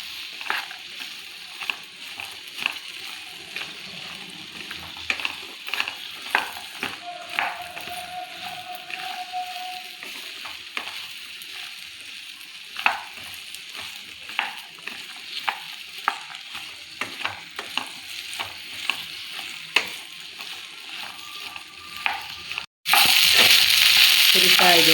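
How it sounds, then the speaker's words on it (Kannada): Okra (ladies finger) frying in a little oil over a low flame, with a steady gentle sizzle and repeated clicking scrapes of stirring close by, then a sudden loud hiss at the very end. "ಅದಕ್ಕೆ ಫಸ್ಟೇ ಸ್ವಲ್ಪ ಆಯಿಲ್ ಹಾಕ್ಕೊಂಡು ಫುಲ್ಲು ಹುರಿಬೇಕು"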